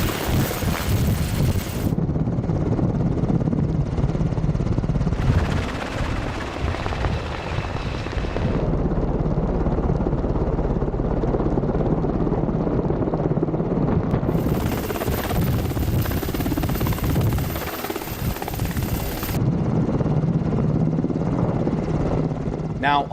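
A Black Hawk helicopter runs close and loud as it practices takeoff and landing from a barge, its rotor and turbine roar holding constant with shifting wind-buffeted layers.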